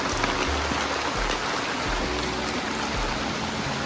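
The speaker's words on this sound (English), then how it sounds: "I don't quite think we were expecting this much rain." Heavy rain pours steadily onto a bricklaying building site, a dense unbroken hiss of drops on hard surfaces and puddles, with no voices over it.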